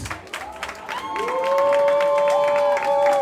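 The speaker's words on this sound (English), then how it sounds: "We need all the DJs, the legendary Ignite Pepper, the mama, a round of applause." Crowd at a ball applauds and cheers for the DJs, a steady wash of clapping that builds and holds, with whoops and a sustained high shout riding on top.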